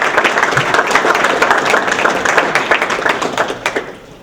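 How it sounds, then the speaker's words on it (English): A standing audience applauds students at a ceremony with sustained, dense clapping and loud continuous applause that thins out and fades near the end. "let's give them a round of applause"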